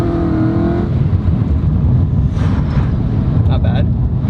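A Lamborghini Huracan accelerates hard, its engine roaring loudly with a rising tone and heavy low rumble and wind noise as a person talks over it.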